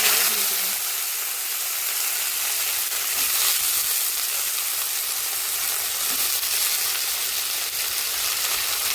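Eggplant frying in a pan of oil after garlic has been browned, giving a steady, loud sizzling hiss that carries on unbroken throughout.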